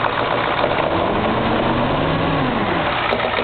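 Ford 6.9 diesel engine running while blowing white smoke, with a clogging return check valve: a loud, steady, rough diesel clatter and rumble held at an even level, heard close and alone.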